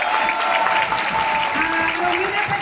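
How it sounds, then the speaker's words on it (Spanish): A theatre audience at a Paraguayan community event in Ireland claps steadily, a dense, continuous round of applause with a faint tonal hum underneath. "Por favor, el aplauso."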